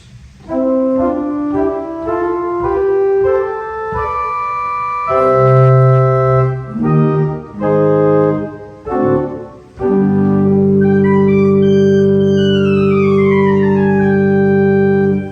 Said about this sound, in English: the first stop on the grate is an 8-foot open diapason